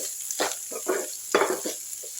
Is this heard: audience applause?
no